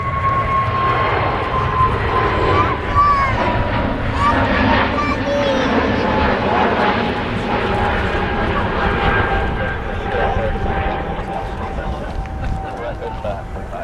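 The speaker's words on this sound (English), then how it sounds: "British Airways A321 Neo." A British Airways Airbus A321neo airliner at Manchester Airport gives a loud, steady engine roar with a whining tone that holds throughout, heard beneath a talking voice.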